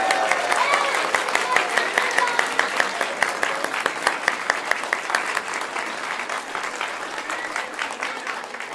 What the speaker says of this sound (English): one more round of applause for these amazing musicians